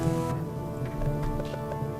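Rain falls in the pixel-art video game Retro Pixel Castles, a steady wash of patter under a sustained musical drone.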